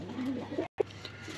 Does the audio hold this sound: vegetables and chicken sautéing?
no